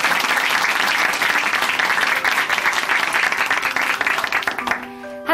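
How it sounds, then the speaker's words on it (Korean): A church congregation at Chuncheon Hanmaeum Church applauds steadily and fairly close, the clapping dying away near the end as a few sustained musical tones come in. "우리 응원의 박수 다시 한번 보내드리겠습니다"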